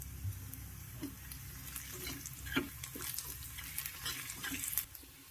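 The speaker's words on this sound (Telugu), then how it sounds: "ఉల్లిగడ్డలు అంతా అల్లం పచ్చివాసన పోయినాక మంచిగా వేపుకోవాలి" Onions frying with ginger garlic paste and turmeric in a pan, a quiet hissing sizzle broken by repeated scraping and clattering stirs of the spoon.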